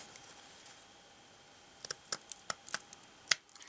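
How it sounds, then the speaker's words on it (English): Scissors snip loose ends from a strip of dried burlap in a quick series of sharp, close cuts after a quiet start. "you want to make sure that you trim off any of the ends that are going to give you trouble"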